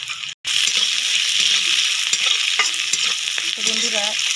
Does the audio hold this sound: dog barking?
no